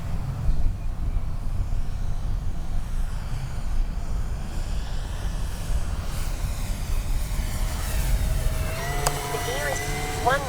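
Avios Super Tucano RC model airplane flying a low pass with its gear down, a continuous electric propeller whine and whoosh rising as it nears, with a voice talking over it.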